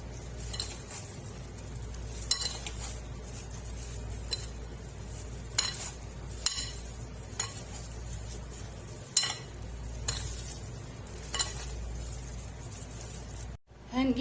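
Tomatoes, peppers and dill stirred in a pan, a soft sizzle under repeated scraping and clinking of a spoon against the pan at close range.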